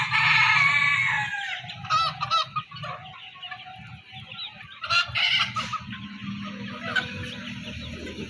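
Chickens on a poultry farm, loud close clucking and honk-like squawks in repeated bursts with quieter flock chatter between.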